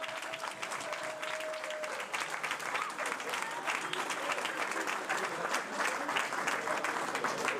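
Steady audience applause from a crowd at a post-match gathering, a continuous close wash of clapping with a faint voice briefly underneath at the start, holding at even strength throughout.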